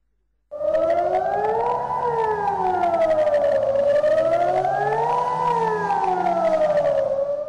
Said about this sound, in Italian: Alle 11:30 il segnale di inizio allarme a Marghera, ma per fortuna si è trattato solo di una prova sirene.